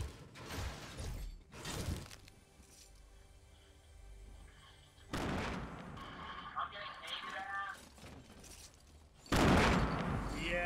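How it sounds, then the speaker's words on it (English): Explosive bursts in the Fortnite battle royale game, several loud broadband blasts spaced a few seconds apart, with voices talking between them. "I can hear the nades."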